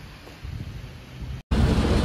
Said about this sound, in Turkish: Böyle bir yağmur başladı ki.